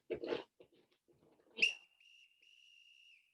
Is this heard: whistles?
yes